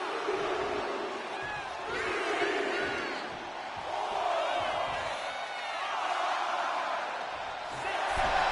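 A WWE 2K25 arena crowd roars and cheers during a Last Man Standing US Championship match. The sustained crowd noise swells and ebbs beneath a commentator's voice.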